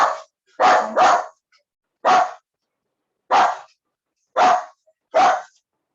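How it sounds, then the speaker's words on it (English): A dog barking indoors in a room: about seven sharp, loud barks in irregular bursts, a quick pair near the start, with clean silence between them. "Sorry, my dog is in my room."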